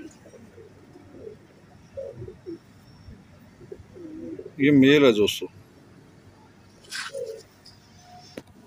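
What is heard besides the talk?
Salara teddy pigeons cooing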